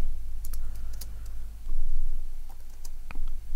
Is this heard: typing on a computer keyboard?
yes